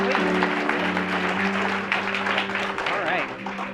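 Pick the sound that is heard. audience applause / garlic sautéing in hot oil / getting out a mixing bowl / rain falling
audience applause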